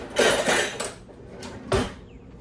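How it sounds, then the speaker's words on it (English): A spoon stirs pectin in a pot for strawberry jam, giving a few scraping, clinking strokes in quick succession, then a pause and another sharp knock against the pot. "I have my pectin in there and I'm gonna mix it around"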